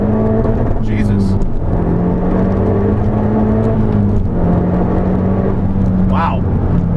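A 450 HP first-generation Mazdaspeed3 accelerates hard down a straightaway, its engine droning loudly from inside the cabin as the pitch climbs and drops through gear shifts, with someone talking over it.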